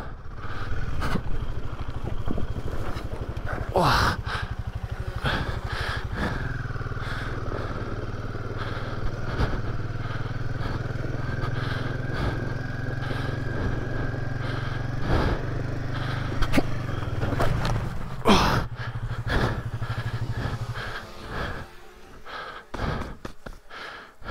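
Royal Enfield Himalayan 450 motorcycle riding downhill at about 5,000 meters altitude, a steady engine drone with wind buffeting throughout, plus occasional bumps and heavy breathing near the microphone.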